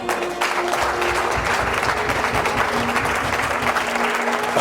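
A church congregation at a Sunday worship service breaks into sustained, loud applause, a dense continuous clapping of many hands that holds steady throughout.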